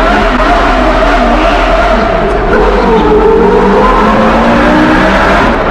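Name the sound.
Porsche Carrera GT engine revving in tunnel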